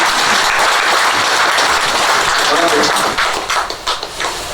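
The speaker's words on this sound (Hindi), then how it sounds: "एक जोरदार ताली" Audience at a Hindi book launch ceremony breaks into loud, dense applause, a sustained wash of many hands clapping that thins and tapers slightly near the end.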